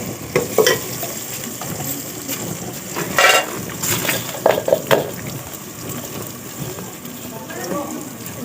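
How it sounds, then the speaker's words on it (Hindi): Spice masala sizzling in a pan as it is stirred for plain rice, with scraping clatters and brief bursts of frying, close by, and a voice speaking at times. "अभी तो मसाला भून रही हूँ"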